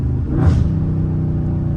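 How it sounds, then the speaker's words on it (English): A Dodge Scat Pack car with a catless stock exhaust revs once, loud and close, swelling into a deep rumbling roar before settling back to a steady idle burble. "One of the best sounding scats on earth, literally, for stock exhaust."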